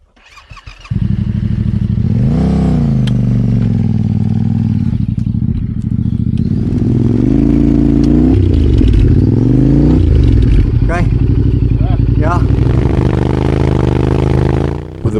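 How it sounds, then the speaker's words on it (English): Motorcycles labour through thick sand in Botswana's Central Kalahari, their engines revving loud and close with rising and falling pitch, plus clatter and scraping, and no talk. "With the bikes working extra hard,"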